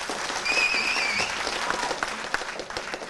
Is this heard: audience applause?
yes